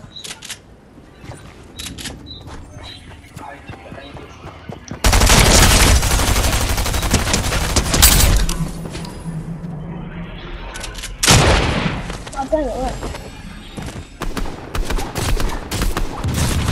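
A turret fires in a video game in long, loud, dense bursts of rapid gunfire that run for several seconds, stop, then return in shorter bursts, with a player's voice talking over parts of it.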